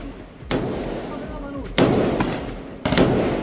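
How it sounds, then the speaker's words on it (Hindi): Automatic weapon firing during war coverage: three sharp bursts of gunfire, each tailing off into rumbling echo, loud over a continuous noisy background. "ये फायरिंग की आवाज, ऑटोमेटिक फायर चल रहा है, ऑटोमेटिक वेपन में।"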